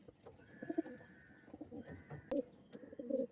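Old-generation pure-bred pigeons, blue-eyed male and female pairs, cooing in soft repeated low calls with a few brief chirps, faint and close in a quiet setting.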